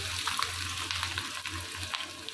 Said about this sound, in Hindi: जब गर्म हो जाए 2 मीडियम साइज़ के प्याज ऐड करेंगे।